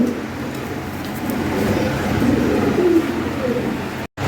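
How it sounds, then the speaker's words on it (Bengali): A pair of yellow Lahori fancy pigeons coo in a low, continuous murmur, close and fairly loud, with a steady background hum and no speech. "এই যে এখানে এক পেয়ার হলুদ লাহরি আছে"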